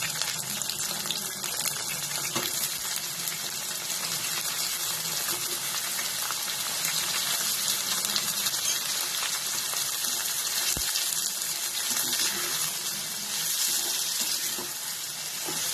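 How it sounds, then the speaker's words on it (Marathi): Green tomatoes and onion sizzle in a hot pan on high heat, a dense, steady crackling hiss that runs throughout. "आता हा टोमॅटो चांगला भाजून घ्यायचा"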